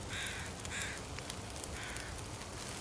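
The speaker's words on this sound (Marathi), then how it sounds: "कावळे झाले कशाला वरती काव काव करतात आहेत" A few harsh crow caws from a video game ring out in short bursts over a steady, low ambient background.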